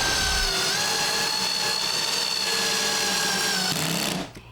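A power drill drives screws into a wall stud with a loud, sustained whining motor tone that holds steady for about four seconds, then cuts off and spins down.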